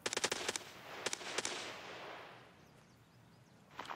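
Rifle fire in Escape From Tarkov: a rapid volley of sharp shots, then two more quick bursts, and a final shot at the end, fairly loud and close with a fading echoing tail.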